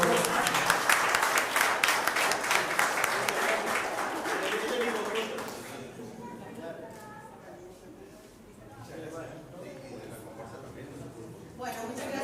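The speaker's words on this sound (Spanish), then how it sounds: "Un fuerte aplauso para ellos," An audience claps and applauds for a traditional folk music group at an awards event, a dense, steady burst of clapping that fades out after several seconds, followed by quieter room sounds and a few scattered claps.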